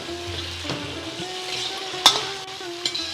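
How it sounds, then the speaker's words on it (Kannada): Drumsticks frying in oil with cumin seeds and curry leaves for nuggekayi sambar give a soft, steady sizzle, with a few sharp clicks of a utensil against the pan. "ನುಗ್ಗೆಕಾಯಿನೂ ಫ್ರೈ ಮಾಡಬೇಕು."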